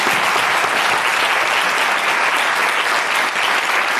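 A studio audience on a TV1 discussion programme breaks into loud, even applause, a thick continuous wash of clapping that holds steady from start to finish with no voices over it.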